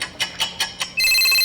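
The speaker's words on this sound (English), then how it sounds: "this is the sound of call bell" Call bell rung with a quick series of five sharp metallic strikes, then a sustained bright ring, loud and close with no talking.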